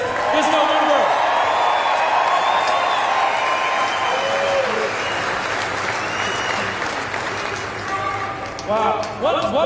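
A large political rally crowd in Reno applauds and cheers, a dense wash of clapping with whoops rising over it, thinning slightly toward the end as scattered shouts stand out.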